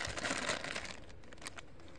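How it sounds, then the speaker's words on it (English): Scissors cut and crinkle through action figure packaging close up, a dense continuous crackle of plastic and cardboard with a few sharp snips toward the end. "let's get the scissors out here, and let's open it up"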